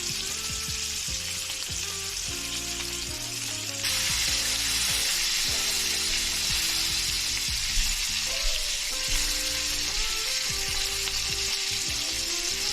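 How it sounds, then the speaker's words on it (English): Loud, steady sizzling and crackling of ribeye steak frying in a hot pan, with occasional clinks and scrapes, continuing without pause. "Listen to that sizzle"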